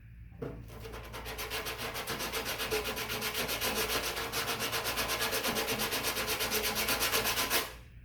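Automotive body filler on a car panel being hand sanded with a sanding block, a close, continuous rhythmic rasping of quick back-and-forth strokes that stops abruptly at the end.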